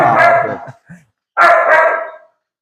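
A puppy gives two short bursts of high yapping barks separated by a pause, loud and close, with a faint whimper between.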